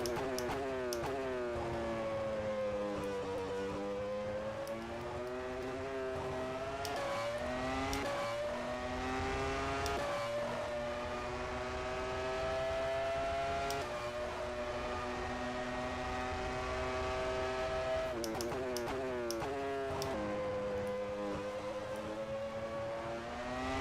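A 1996 Formula One car engine in rFactor 2 screams loudly and continuously, its pitch climbing through gear changes with brief drops at each upshift and downshift, close and dominant throughout with no talking.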